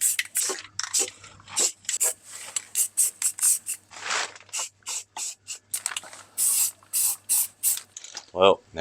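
Parts under a 1971 Toyota Celica are spray painted with a rattle can, in a close run of short, sharp hissing bursts with brief clicks and gaps in between.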